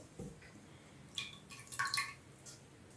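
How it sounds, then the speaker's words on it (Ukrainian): Water drains from a potted orchid into a saucer indoors, giving soft, faint drips and small trickling splashes scattered irregularly over a quiet background. "Вода стікає собі у блюдечко."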